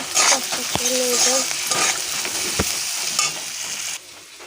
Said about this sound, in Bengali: এই যে ডিম ভাজা